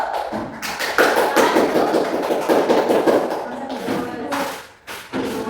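Classroom applause for a student group during a lesson, a dense patter of clapping hands that runs for several seconds with a brief dip near the end.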